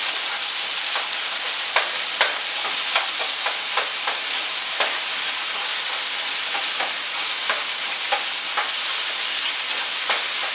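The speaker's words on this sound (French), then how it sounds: "on va mélanger ça comme il faut" Steady scraping and clicking of a utensil working through a thick mixture with cream cheese in a bowl, with soft irregular taps throughout.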